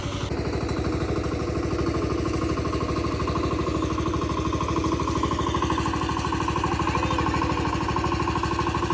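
A tractor engine runs in a rain-soaked paddy field, producing a loud, fast, regular chugging knock that holds steady from start to finish with no talking.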